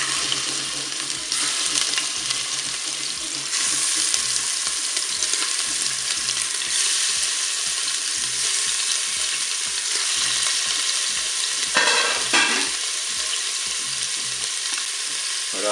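Eight pork meatballs sizzle as they brown in hot oil inside a Cookeo multicooker, a steady close crackle with occasional stirring and scraping noises and no talk over it.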